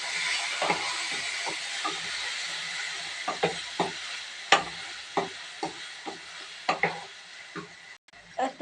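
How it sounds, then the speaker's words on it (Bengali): Washed, boiled soybean chunks frying in a pan, a continuous sizzle broken by repeated sharp scraping stir strokes at an irregular rhythm, close and fairly loud. "এবার আমি এটা ভেজে নেব।"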